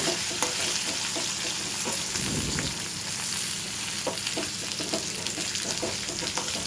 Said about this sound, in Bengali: আলুগুলো ভাজতে দিয়ে দেবো আলুগুলো ভাজা হলে তারপরে মশলা